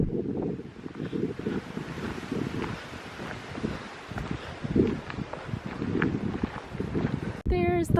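Gusty wind buffets the microphone on an outdoor walk at Powerscourt Estate in County Wicklow, Ireland, a rough, uneven roar rising and falling throughout, with a brief whistling sound near the end.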